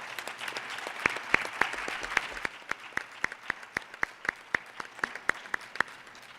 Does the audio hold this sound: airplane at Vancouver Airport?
no